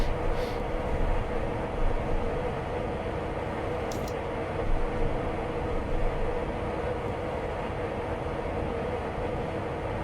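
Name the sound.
train passing in video game Train Sim Classic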